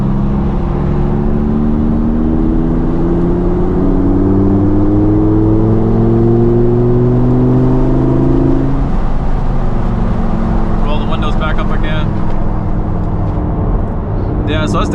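A Lamborghini engine accelerates while driving on wintry roads, a loud continuous rising whine and roar that climbs in pitch, drops, then builds again, with a voice talking over it.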